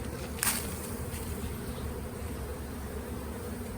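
A honeybee swarm hums in a dense, continuous buzz close by, with one louder bee whizzing past early on.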